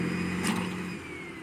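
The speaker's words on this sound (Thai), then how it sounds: "เดี๋ยวใส่แมคโครลากครับ" An excavator's engine revs hard as it drags a double-decker bus stuck in mud, a loud, close mechanical roar that swells briefly and then eases into a steady drone.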